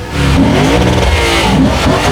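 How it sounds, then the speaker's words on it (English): V8-powered Lexus IS500 accelerating hard, a loud, close engine note rising in a continuous pull over about two seconds, with no talk. "That V8-powered Lexus IS500"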